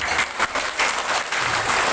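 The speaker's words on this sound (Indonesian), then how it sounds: "Tepuk tangan buat beliau." A crowd applauds after a prayer-room donor is introduced at a religious gathering, steady dense clapping that surges in a few bursts over two seconds.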